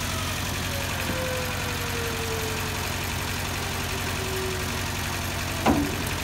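A Smittybuilt 17,500 lb winch slowly drags a shipping container up onto a trailer: a steady, droning mechanical hum with a faint drawn-out whine and a brief clunk near the end.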